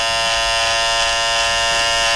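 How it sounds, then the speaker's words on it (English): An electric trimmer buzzes steadily and close while trimming a man's mustache, giving a continuous bright, even drone with no talk over it. "I'm just gonna trim down his mustache"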